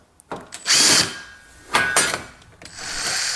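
A power drill unscrews the frame screws on a washing machine being taken apart, with two loud whirring bursts of a few tenths of a second each and a quieter, steadier drive running at the end.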